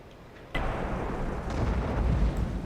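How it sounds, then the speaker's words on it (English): A tank explosion from the World of Tanks game lands as a sudden sharp blast, then settles into a loud, sustained rumbling roar that lingers to the end. "That explosion sound, I don't know, it's a little kind of weak"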